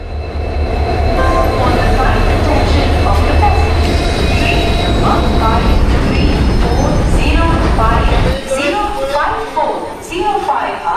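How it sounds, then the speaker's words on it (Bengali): The Sealdah–Malda Town Gour Express rolls into the platform with a loud, heavy rumble of wheels and carriages and metallic squeals, easing off near the end, while a person talks over the noise. "এখন 2 নম্বরের প্ল্যাটফর্মে ঢুকছে শিয়ালদা মালদা টাউন গৌড় এক্সপ্রেস।"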